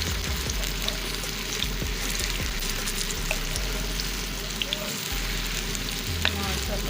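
Aloo tikki frying in hot oil, turned over to the other side once one side has browned. The sizzle is close and steady, crackling without pause, and a few soft clinks and stirring noises come through it.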